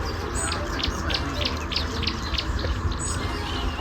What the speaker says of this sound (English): we watched this black bird mimicking the sounds that people were making or from the other birds